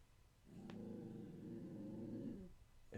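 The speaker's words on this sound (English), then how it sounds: "What are you growling about?" A dog named Tilly lets out a low, continuous growl that lasts about two seconds, close and fairly quiet.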